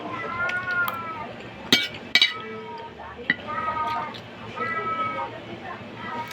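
A cat meows several times in a kitchen while a person talks about a meal of chayote and carrots, with a few sharp clinks of dishes and cutlery mixed in nearby.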